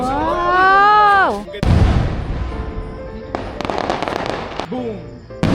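Fireworks go off at night at a home on a corner lot, a dense crackling barrage of pops and bangs that follows a loud whistling rise, with people reacting close by.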